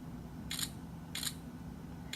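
A ZTE Blade Zmax phone camera shutter clicks three times at a steady pace, short crisp sounds over a quiet room hum, with no talking.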